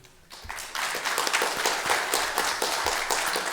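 An audience at a KIST alumni talk bursts into applause for former director Kim Eun-young, a sudden onset of many clapping hands sustained at moderate loudness in an indoor hall.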